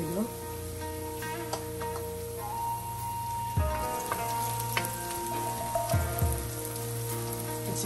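Onions added to garlic frying in a wok for a beef steamed rice dish, a loud steady sizzle with stirring scrapes and clatter, while someone talks over it.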